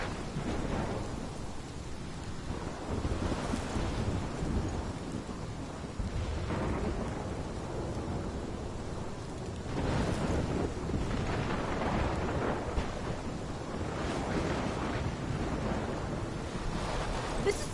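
A thunderstorm in the video game Life is Strange roars steadily with heavy rain and rolling thunder swelling and fading throughout, loud and continuous with no voices.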